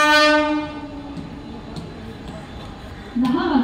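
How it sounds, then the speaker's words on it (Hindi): A fast Mumbai local train passes through Vikhroli station, sounding a loud horn that fades into the rumble and rattle of wagons, then a second horn blast near the end. "एक जलद गाड़ी जाने वाली है"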